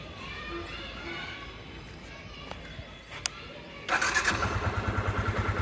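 After several seconds of quiet background with faint clicks, a Yamaha FZS V3 motorcycle from 2022 with about 7000 km fires up abruptly and settles into a steady, close, pulsing idle.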